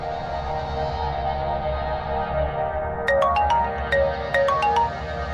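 A phone ringtone chimes in quick repeated bursts over steady background music, left unanswered, clear and fairly close.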